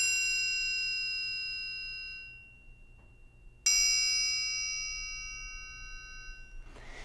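A struck triangle rings from inside near its closed end, two clear metallic strikes with shimmering sustained overtones that slowly fade, the second after a quiet gap, alone with no talking.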